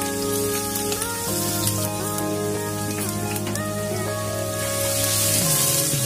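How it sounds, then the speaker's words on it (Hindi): Crushed garlic cloves fry in hot oil with a continuous rain-like crackle and hiss that stays close and even throughout, with steady musical tones playing alongside. "चार 5 लहसुन की कलियों को मैंने कूट लिया था,"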